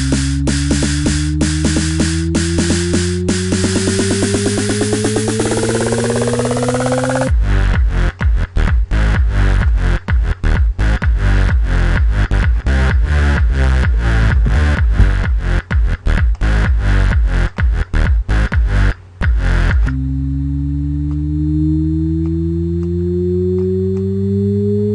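Electronic house build-up programmed in FL Studio: rising synth slides over pulsing chords give way to a dense, rapidly repeating stuttered section, then a thinner rising sweep, loud and continuous throughout.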